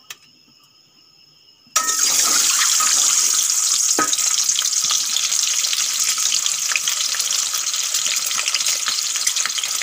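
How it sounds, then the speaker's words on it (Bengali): Eggs dropped into hot mustard oil set off a loud, steady sizzle that bursts in after a quiet moment and keeps crackling evenly, close and strong, with no one talking. "তেল গরম হয়ে গেছে, এখন এই ডিমগুলো দিয়ে দেবো।"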